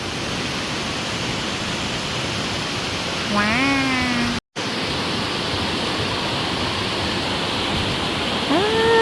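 A mountain stream runs through Iao Valley with a steady, close rushing wash that never lets up, while a voice speaks briefly over it partway through.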